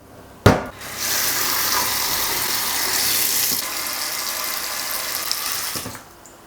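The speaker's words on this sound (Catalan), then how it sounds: "i l'omplirem d'aigua freda." Cold tap water pours steadily into a pot of spinach for about five seconds, a loud, even hiss opened by a sharp clunk of the tap and ending with another faint knock as the flow stops.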